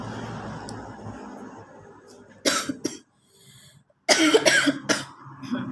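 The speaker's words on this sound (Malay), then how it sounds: "Batuk." Two loud bursts of coughing separated by a short pause, close up, over a low background hum.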